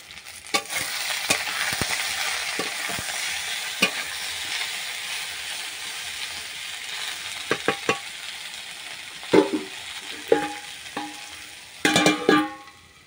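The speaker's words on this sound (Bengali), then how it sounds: "তো এখানে চিচিঙ্গে ভাজা করেছি, আর এখানে বসিয়ে দিয়েছি" Snake gourd, with bitter gourd and potato, fries in a pan: a steady close sizzle, punctuated by spatula scrapes and clinks, and a few louder stirring knocks near the end.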